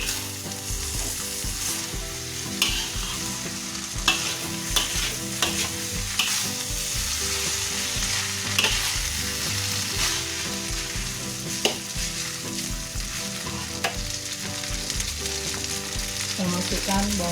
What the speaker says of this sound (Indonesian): Kita masukkan bihunnya, kita aduk bihunnya.